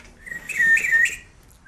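A single close whistled bird imitation, a short bright chirping trill lasting about half a second, rising out of quiet room hiss with no talk.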